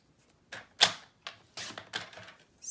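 A paper trimmer cuts black cardstock into a small square, making a series of close, crisp clicks and short slicing swishes in an otherwise quiet room.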